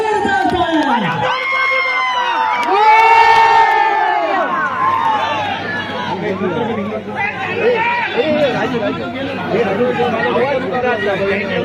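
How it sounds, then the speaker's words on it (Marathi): A crowd at a state-level kabaddi tournament cheers loudly and continuously, with many overlapping shouting voices and excited chatter close around. "एकदा जोरदार टाळ्या."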